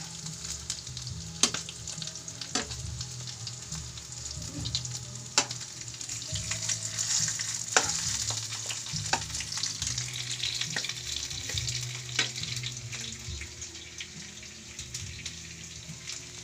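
Sliced longganisa sausage frying in a pan, a steady close sizzle with scattered sharp pops and crackles over a low hum, no voices.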